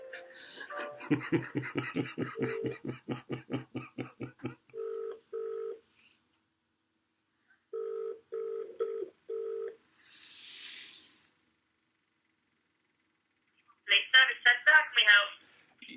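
A telephone call begins with a burst of rapid dialing tones, then spaced ringback tones repeat with long pauses, a brief noisy blip, and a final flurry of chirpy tones.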